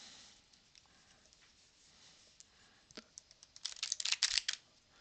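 Jumbo playing cards being shuffled by hand, faint scattered clicks and flicks at first, then a quick burst of crisp riffling snaps near the end, close and alone without speech.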